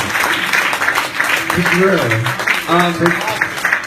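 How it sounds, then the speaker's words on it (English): Applause from a comedy show audience fills the room throughout, with someone talking over it. "Round of applause for Universe Games, by the way."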